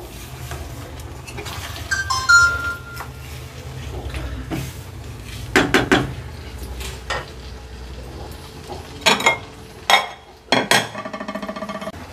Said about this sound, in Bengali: নুন দেওয়ার পরে আমি আলুগুলোকে ভালো করে একটু কষে নেব।